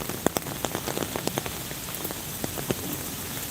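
Rain falling and pattering on surfaces while walking through Tokyo, a steady close hiss with scattered sharp drop hits, moderately loud and heard alone.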